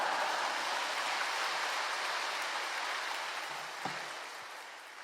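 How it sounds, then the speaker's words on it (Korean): A large Korean church congregation greets the pastor arriving for a Sunday worship service with big, sustained applause, a dense, even roar of many hands that slowly fades over several seconds, no speech over it. "목사님 나오실 때 하나님께 영광 돌리면서 할렐루야 외치면서 큰 박수로 맞이해 주시겠습니다"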